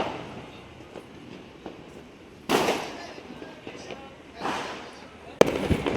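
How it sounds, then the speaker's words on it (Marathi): Diwali fireworks bursting at a distance in Nigdi, Pune: a few loud booming cracks spaced seconds apart over a faint background murmur. "सात वाजल्यापासून आता फटाके फुटायला सुरुवात झालेली आहे"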